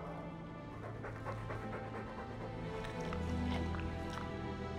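A Mabari war dog from the game Dragon Age 2 pants in quick, rhythmic breaths close by, with a low ambient hum beneath and no clear speech.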